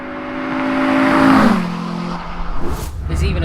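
A Renault Clio 172 Renault Sport engine revs up and then eases off, a steady droning growl that builds before settling, with road noise in the background.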